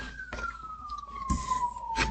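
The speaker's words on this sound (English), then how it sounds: "I'm gonna wait for the sirens to go past" A siren tone slowly descending in pitch as it passes at a distance, with a few scattered knocks and thumps nearby.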